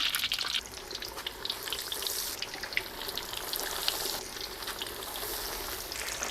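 Steady crackling sizzle of crucian carp frying in a hot pan, with occasional sharper pops and faint clatter as the fish are shifted, continuous throughout.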